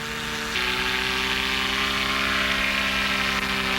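A small aircraft engine runs up at takeoff, jumping from a lower drone to a loud, steady buzzing roar with a strong tonal hum that holds constant, close and dominant with no talk.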